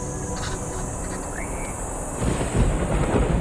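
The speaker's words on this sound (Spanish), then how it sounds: "el sonido de los truenos indica un cambio muy deseado" A low, distant rumble of thunder rolls in beneath steady ambient noise and insects in the African bush, swelling slightly toward the end.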